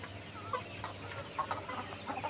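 Layer hens cluck softly in short scattered bursts inside a poultry shed on a very hot day, over a low steady hum, somewhat distant and quiet.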